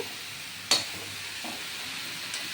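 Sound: spices frying in pan for fish-head cabbage ghonto

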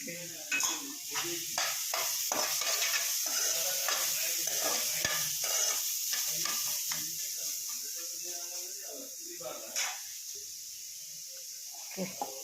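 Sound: chicken curry being stirred and fried in a pan

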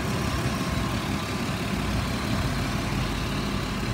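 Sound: 2006 Ford Explorer XLT engine idling

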